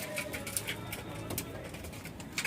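Racing pigeons coo softly and repeatedly at their loft in Atimonan, Quezon, over faint background noise.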